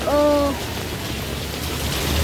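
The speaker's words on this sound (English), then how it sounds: "it is raining like a fuck" Heavy rain pours steadily as a broad, continuous wash of noise, loud and close, with a short voice-like tone near the start.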